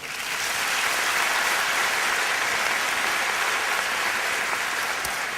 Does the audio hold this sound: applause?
yes